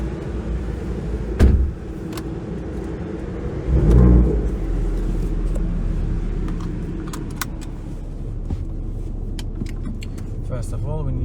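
An Audi TT RS 8J 2.5 TFSI with a turbo kit idles while warming up, a low steady rumble, briefly revving twice, along with clicks and small rattles from inside the car.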